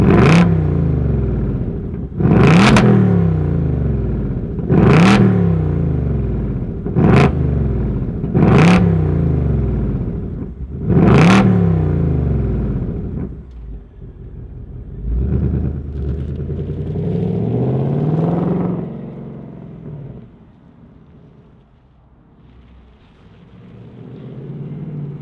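A 2025 Ford Mustang GT California Special V8 fires up, then blips its throttle in six sharp, loud revs spaced a couple of seconds apart before settling into a deep, burbling idle that fades lower.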